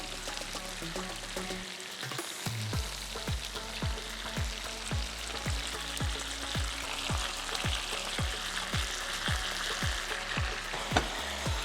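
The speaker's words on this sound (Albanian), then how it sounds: "Dhe tash, pas janë skuq qepët, atëherë e kthej mishin dhe vejmë përmin." Onions and meat fry in a hot pan, a steady loud sizzle running the whole time with a series of regular scraping stirs or turns, close up and with no talking.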